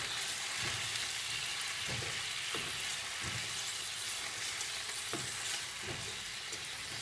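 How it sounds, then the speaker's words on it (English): Tofu sizzles in sauce in a hot pan, a steady bright frying hiss broken by repeated scraping stirs at irregular intervals, close and alone without talk. "we're going to cook it in the sauce until we've just like kind of cooked off all of the liquid"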